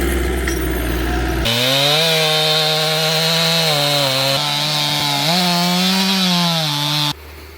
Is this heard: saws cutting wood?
yes